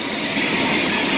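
Freight train hauled by EMD SD40-3 locomotives passing close and loud, a dense steady roar of rolling wagons and wheels with faint squeal, no pauses.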